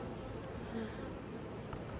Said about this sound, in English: the bees are a tad bit grumpy when I open up these lids